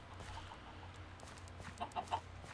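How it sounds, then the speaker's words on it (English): Chickens clucking in the Minecraft video game, a few short soft clucks near the end over a faint low background hum, quiet and sparse. "Come to me, chickens, yes"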